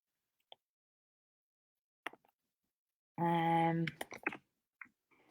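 A few sparse, faint computer mouse clicks in a quiet room, with a brief tonal, voice-like sound in the middle.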